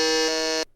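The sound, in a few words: quiz game buzzer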